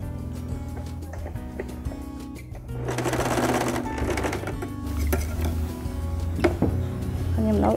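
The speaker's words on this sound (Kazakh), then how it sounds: "Енді сумкамыздың түбін тігіп алайық." A sewing machine stitches the bottom of a fabric bag; after a few quiet mechanical clicks and hum, the motor starts and runs in a steady, rapid rattling stitch that continues up close to the end.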